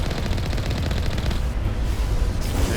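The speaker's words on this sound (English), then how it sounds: "we're being shot at by what looked like a Geth turret" Rapid automatic gunfire from a Geth turret in the video game Mass Effect, a dense stream of shots that drops off midway, then resumes more faintly among other game sounds.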